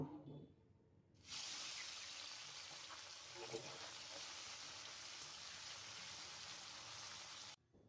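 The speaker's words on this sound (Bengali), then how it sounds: "মাছগুলো ভেজে নেব।" Small mola fish drop into hot mustard oil in a wok, setting off a sudden, loud, steady sizzling hiss that holds for several seconds after a quieter start, then stops abruptly.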